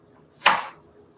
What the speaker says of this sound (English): I'm going to try and cut it as thin as I can. Into little pieces.